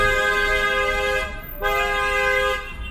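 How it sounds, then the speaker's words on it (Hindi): A loud car horn blares in two long sustained honks at a campsite in Jammu, the first about a second and a half, a brief gap, then a second of similar length. "जब बड़े हॉर्न बजते हैं ना फिर हटते हैं"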